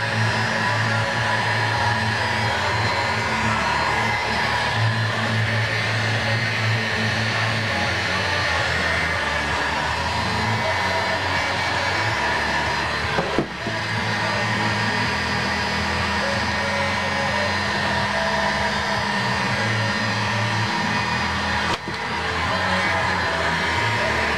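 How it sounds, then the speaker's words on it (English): Heat gun running flat out on a high setting while shaping milk jug plastic for Halloween skulls, a loud, steady roaring hiss that holds for the whole stretch with only two brief dips. "This heat gun turned up all the way high, pretty high."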